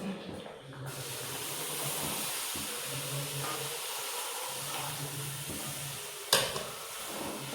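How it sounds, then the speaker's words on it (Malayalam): Boiled chicken stock goes into sizzling masala in a pan for a roasted-coconut village chicken curry, producing a broad, steady hiss with a sharp burst of sizzle near the end. "നമുക്ക് ഇതിലേക്ക് കുറച്ച് ചിക്കൻ്റെ വേവിച്ച വെള്ളമില്ലേ അത് ഒഴിച്ചു കൊടുക്കാം"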